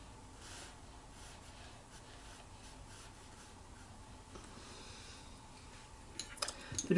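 Scrub brush rubbed over watercolor paper to lift paint for a waterfall scene, a soft, continuous close-up scratching and rubbing that grows louder toward the end.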